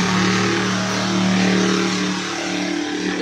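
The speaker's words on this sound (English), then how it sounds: "it's really hard to focus when you got all these jet skis" Jet skis droning nearby on the water, a steady loud engine whine that holds level then eases slightly as they pass, with no talking over it.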